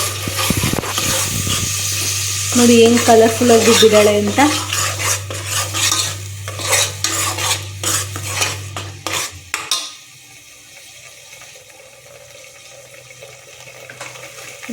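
A ground paste of green chili, onion, coriander, mint and garlic tempers in hot oil in a kitchen, with a loud crackling sizzle and clattering spoon stirring against the pan, then a sudden drop to quiet as a voice speaks.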